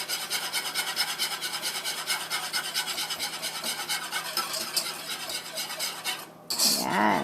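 Gravy being stirred in a pan with a utensil, producing steady rhythmic scraping and clinking against the metal, loud and continuous with a brief pause near the end.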